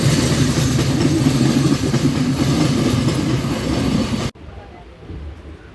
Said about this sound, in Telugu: తెనాలి నుంచి మన ట్రైన్ అయితే బయలుదేరిపోయింది